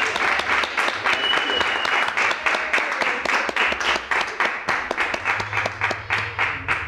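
An audience at a 1998 poetry reading applauds the poets with a dense, steady round of clapping from many hands that stays full throughout.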